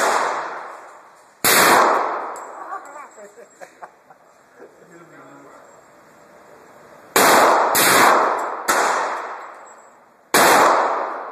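Springfield XD 45 pistol fired outdoors, five sharp, loud gunshots, one early and four clustered near the end, each followed by a short ringing decay, with people talking and laughing between shots.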